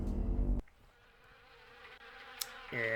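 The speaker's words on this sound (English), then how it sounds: "The old car is the perfect nesting ground for wasps." Wasps buzzing around an old car at an abandoned house in the video game Harvester, a faint, thin insect drone between louder bursts of game sound at the start and end.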